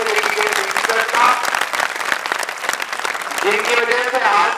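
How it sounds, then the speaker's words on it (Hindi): Loud applause for teachers at a coaching academy's results celebration in Gangapur City, a thick burst of clapping from a crowd that swells and continues steadily, with some voices talking over it. "इससे एक बार जोरदार तालियां उन सभी टीचर्स का"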